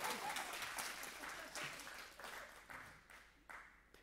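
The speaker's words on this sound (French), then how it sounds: "Donc, on peut l'applaudir." Audience applause in a talk about smoking and quitting, a moderate burst of clapping that thins out and fades over a few seconds, with a few louder claps near the end.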